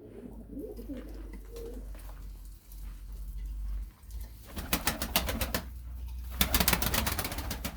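Pigeons coo softly and low in a loft, with a few murmuring calls early on, then bursts of sharp fluttering and wing clatter toward the end.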